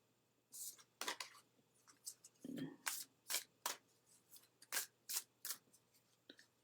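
Oracle cards being shuffled, a run of sharp riffling bursts in an irregular rhythm, close and fairly quiet, with soft rustling between them.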